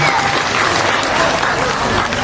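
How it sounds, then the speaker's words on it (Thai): A crowd at a community electrical safety event applauds loudly and continuously, a thick close wash of clapping with cheering voices mixed in. "ขอเสียงปรบมือนะครับ"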